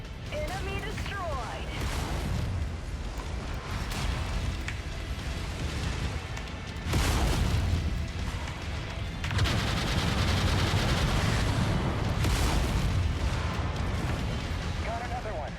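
Continuous rumbling explosions and weapon fire as an enemy mech is destroyed in the MechWarrior 5 video game, loud and sustained with bursts swelling midway, under someone talking.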